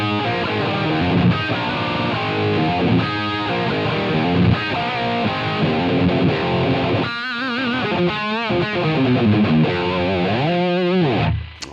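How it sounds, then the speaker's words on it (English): Electric guitar through a Line 6 Helix super overdrive distortion with every control at five, playing loud, thick distorted riffs and sustained bent notes without pause, cutting off abruptly at the end. "let's add our distortion in, our super overdrive"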